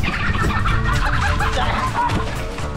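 Wild chickens cluck and squawk in a flurry as people chase them on foot to catch them by hand, loud close fowl calls with scuffling and rustling throughout.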